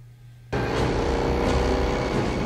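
A big car's engine from the 1981 film Mad Max 2: The Road Warrior bursts in abruptly after a brief low hum, then holds a loud, steady roar to the end.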